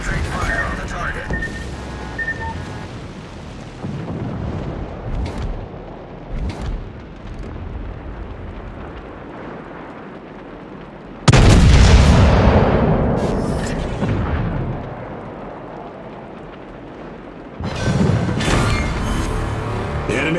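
Main guns of the battleship Warspite fire in World of Warships, two massive deep blasts several seconds apart, each rolling off slowly, over a quieter backdrop of game sounds and softer distant thuds.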